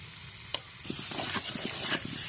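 Turmeric, cumin, pepper and chilli sizzle in hot oil on a home clay stove, with a continuous hissing spit and soft repeated scraping strokes of a spatula, close by and with no talking.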